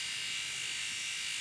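A Pritech electric razor runs continuously, a steady, bright, high-pitched buzz held close and even throughout, with nothing else audible.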